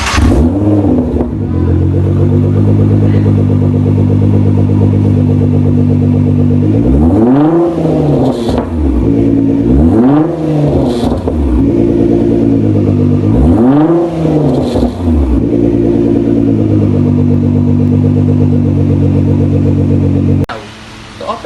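A supercar's loud, deep Meisterschaft GT exhaust idles, then is blipped three times in swelling rising-and-falling revs before settling and cutting off near the end.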